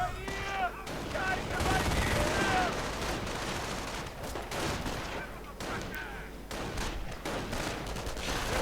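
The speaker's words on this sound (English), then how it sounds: "MG opening up." Battle in Company of Heroes 2, a World War II strategy game, where a machine gun opens up in dense, continuous bursts of gunfire amid other shots, loud and sustained throughout.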